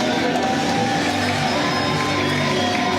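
Capacity crowd at a Defy Wrestling event, a steady roar of cheering and shouting filling the arena, loud and continuous throughout.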